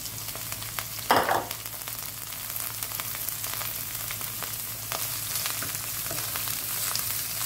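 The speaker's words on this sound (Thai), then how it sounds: "พอเห็ดหอมเริ่มได้ที่นะครับก็เอาตัวแครอทลงไปผัดนะครับ" Carrots stir-fried in a pan with shiitake mushrooms, a steady hissing sizzle close by, with a brief louder scrape or clatter early on and lighter stirring noises after.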